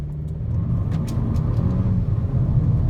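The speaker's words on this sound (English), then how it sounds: "we're gonna get out of this dirt lot and go for a 0 to 60 run" A 2015 Mercedes-Benz CLA250 accelerating hard from a standstill with traction control off, its engine a loud, steady low rumble heard from inside the car throughout.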